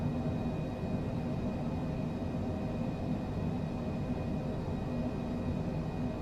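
Cessna light aircraft engine in a flight simulator game, a steady, continuous propeller-engine drone with a faint high whine running evenly throughout, no voices present.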